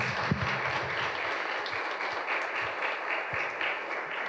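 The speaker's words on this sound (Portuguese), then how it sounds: "eu gostaria de uma salva de palmas" An audience applauds after an innovation talk at a business technology breakfast, with sustained, moderately distant clapping and a few louder claps standing out near the start.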